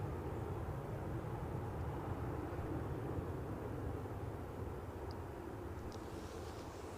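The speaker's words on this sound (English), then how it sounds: "I was struck by the fact that this aircraft got up pretty smartly." An Embraer jet takes off at Edinburgh Airport, its engines a steady, fairly faint broadband roar heard from a distance that holds evenly throughout with no voices.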